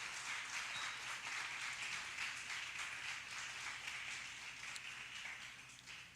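Church congregation applauding after a prayer, a steady wash of many hands clapping, fairly distant and soft, fading slightly toward the end.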